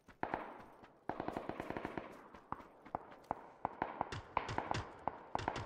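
Rapid bursts of gunfire aimed at a vehicle's tires in PUBG Battlegrounds, with sharp cracking shots in quick irregular volleys and brief pauses between them, fairly close and loud.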